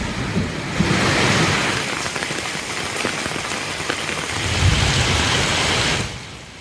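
Heavy rain pours steadily over the Thiruvennainallur area, a dense, loud and continuous hiss of drops hitting surfaces, with occasional low rumbles beneath and no voices.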